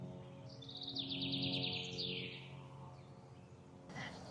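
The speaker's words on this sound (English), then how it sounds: "where I can hear the birds chirping." A faint bird chirps in a quick rapid series early on, then fades, over a low steady outdoor hum.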